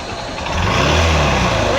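Motorbike engine revving as it pulls away, a steady low drone that swells after the first half second and holds loud and close, with people talking over it.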